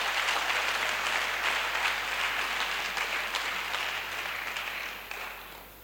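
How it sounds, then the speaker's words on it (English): Steady audience applause at a university graduation and closing ceremony for an IFAD project training batch, a dense wash of clapping from a hall that holds for several seconds and slowly fades. "We deserve a round of applause."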